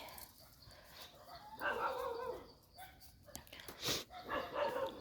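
Dog barking outdoors in a rural forest setting, a few loud, close barks in separate bursts over background noise, with people talking nearby.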